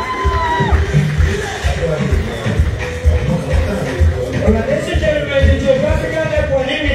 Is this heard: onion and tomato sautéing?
no